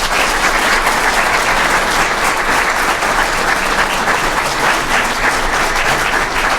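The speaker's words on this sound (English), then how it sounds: "how about one final round of applause as we close the night out and we end this ceremony" A large audience gives a sustained, dense round of applause at the close of a police department annual awards ceremony, loud and steady throughout with no talk over it.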